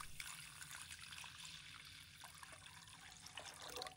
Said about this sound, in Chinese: 首先，将小米简单的清洗一下，要轻轻抓洗